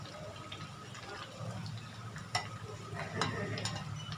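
Potato slices frying in hot oil on a low flame, browning to a crisp: a soft, steady sizzle with faint stirring clicks and a couple of sharper scrapes, fairly quiet and close.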